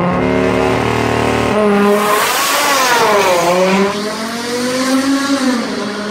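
A BMW M140i hot hatchback revs hard, its engine note climbing and falling through loud, sustained sweeps of acceleration, heard close and with no talking.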